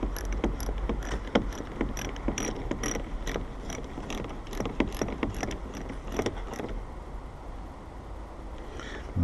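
Socket set ratchet tightening a side mirror nut on a Hyundai iLoad van, with quick, even clicking strokes up close that stop partway through, followed by faint handling.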